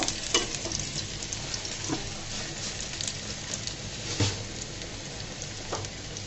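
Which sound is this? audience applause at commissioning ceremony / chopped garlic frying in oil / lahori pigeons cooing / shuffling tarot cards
chopped garlic frying in oil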